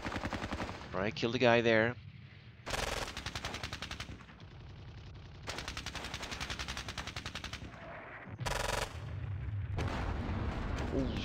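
Heavy gunfire in the Squad Battles war game: dense bursts of artillery and machine-gun fire that come and go in loud waves, with a brief spoken line over the shooting near the start.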